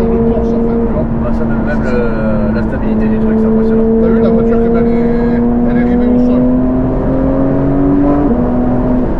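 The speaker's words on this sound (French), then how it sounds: "c'est ce bruit, t'as l'impression de conduire une voiture de course" Porsche engine accelerating from inside the car: a loud, sustained, steady drone whose pitch climbs gradually through the gears, with a brief drop near the end, while people talk over it.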